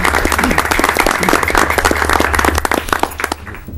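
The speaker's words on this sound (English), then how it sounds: "if we could have a little applause for our students here tonight" A room of people at a city council meeting claps steadily for visiting students, a dense, fairly loud round of applause that carries through the whole moment before tapering slightly at the end.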